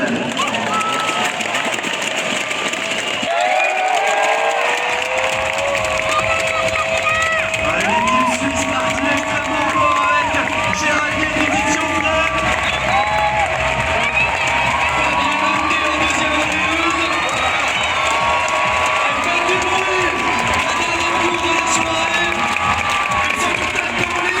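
A stadium crowd at an athletics meeting in Lausanne cheers and whoops for the athletes, a sustained roar with scattered applause and shouts, while an announcer speaks over the noise.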